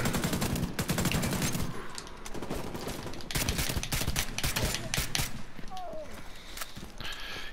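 Sustained automatic gunfire from shooting enemies in The Division 2, with loud, close bursts of rapid shots and overlapping combat noise throughout; a voice speaks over part of it.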